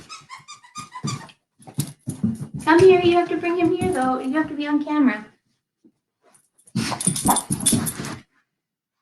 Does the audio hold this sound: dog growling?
yes